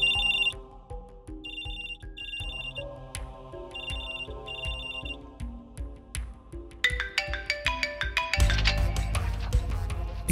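A telephone ringing at home, with a repeating electronic ring pattern over a melodic ringtone tune that builds louder toward the end, with no voices.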